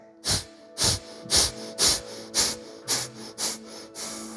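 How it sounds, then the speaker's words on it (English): A run of eight deep, forceful nasal exhales during a yoga breathing exercise, evenly spaced about half a second apart, each a close, breathy rush over a quiet low hum. "Inhale through your nose. Exhale."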